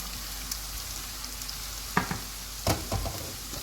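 A steady sizzle of garlic paste frying in a pan, with a few clinks and scrapes of stirring breaking through.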